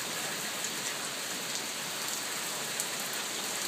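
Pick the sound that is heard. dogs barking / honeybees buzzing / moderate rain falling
moderate rain falling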